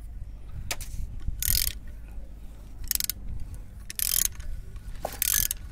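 A wrench, an L-rod, works a bolt loose on a 4x4 vehicle, heard as several loud ratcheting metallic clicks and bursts at roughly one-second intervals, close up, with quieter mechanical creaks in between.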